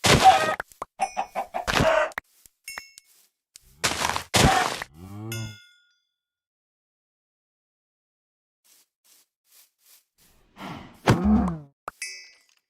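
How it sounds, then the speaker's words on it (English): Chickens in Minecraft give short, clipped clucks in several quick bursts, with silent gaps between them and a last cluster of clucks near the end, close and clear with no talk. "Knock out these chickens here."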